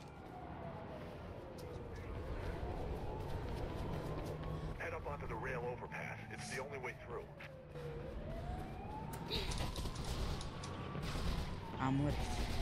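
Police sirens wail in the Mirror's Edge video game, a steady rising and falling siren with bursts of gunfire and game action, while players talk over it.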